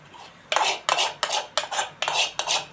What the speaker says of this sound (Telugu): ఇప్పుడు దీన్ని ఈ గోంగూరని దీనిలో వేసేసుకుంటానండి.